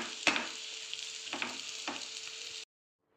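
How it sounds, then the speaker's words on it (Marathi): Spicy kurdai curry made with fried kurdai sizzles in a pan, with close frying hiss and several distinct stirring scrapes and knocks before it cuts off abruptly, no voices. "आता याला छान मिक्स करून घेऊया।"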